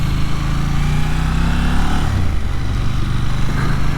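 A 2022 KTM 890 Duke GP motorcycle rides along the road, its engine droning loudly and steadily. The engine's pitch slides down midway through, then holds a rough, continuous hum without any voices.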